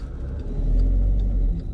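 Skoda Fabia TDI, a Volkswagen-group diesel, driving with a low steady engine rumble and road drone that swells slightly midway, heard from inside the cabin without talk.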